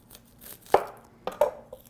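A knife slices the root end off an onion on a cutting board with two crisp, close cuts, each a sharp tap followed by a brief crunching tear, in a quiet kitchen.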